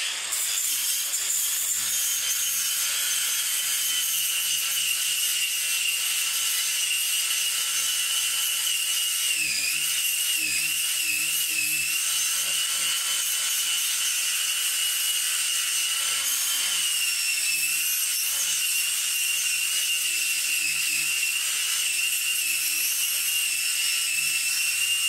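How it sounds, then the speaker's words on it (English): An angle grinder fitted with a flat disc scrubs clean a metal part removed from a cherry picker's wheel, a continuous whining grind held close for the whole stretch with brief dips in load partway through. "I've got two grinders, one with the cutoff, one with the flat disc."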